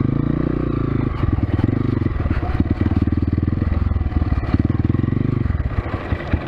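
A 2021 Kovi Lite motorcycle engine runs close by with a steady, throbbing idle that pulses rapidly, rising slightly as it revs, loud and continuous.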